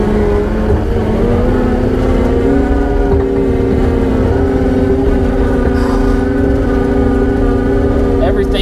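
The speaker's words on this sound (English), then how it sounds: "we're going over dirt and grass here. You guys can already hear it." A John Deere skid steer fitted with suspension drives over dirt and grass, its engine droning in a steady loud hum with rattling, under someone talking throughout.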